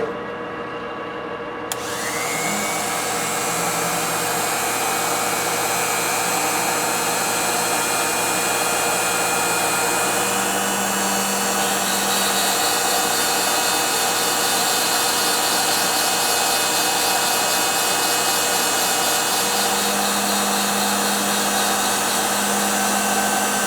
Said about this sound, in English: Got a quick little side job to show you with the tool post grinder.